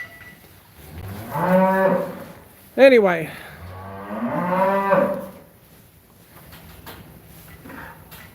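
Feeder cattle at a rural auction moo in three long, loud, drawn-out calls close by, with quiet farm ambience between them and a brief spoken word.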